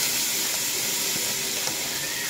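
Sisig sizzles steadily in a pan of melted margarine, a constant loud hiss with faint crackles and no talk.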